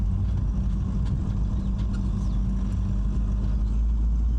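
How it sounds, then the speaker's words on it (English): A crashed, abandoned police car rolls along a dirt road, its engine and tyre rumble steady, loud and close, a continuous low drone with no voices. "Driving down this dirt road and I can already see it in the distance."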